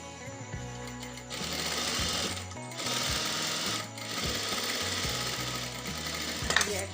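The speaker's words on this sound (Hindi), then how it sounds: "ऐसे ही सिलाई लगाते जाए साथ साथ।" A sewing machine stitches a belt onto a salwar, its needle thumping in a fast, even rhythm. It runs in several close, steady bursts separated by brief pauses.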